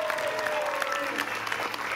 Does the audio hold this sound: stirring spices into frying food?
no